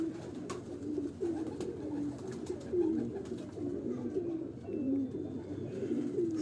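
A prize-winning female racing pigeon coos repeatedly, soft throaty rolling calls recurring every second or so at close range, over faint background hiss and scattered small clicks, no talk.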